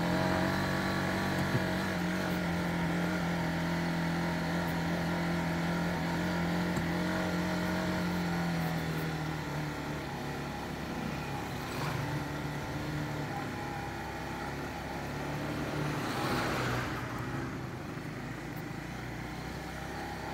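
Dual sport motorcycle ridden over a rough shortcut road between Maragusan and Mawab, its engine droning steadily and close, shifting in pitch as the bike works over uneven ground, with no talk.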